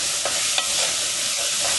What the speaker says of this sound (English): And you see she's cooking up, browning up just fine, just nice